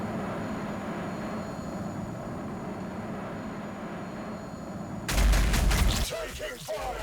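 Gunfire bursts out in a tabletop-style Warhammer 40,000 battle game between Orks and Blood Angels, a loud rapid volley erupting suddenly over a steady low rumble of battle ambience.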